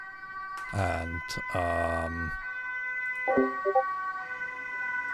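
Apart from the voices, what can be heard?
passing ambulance siren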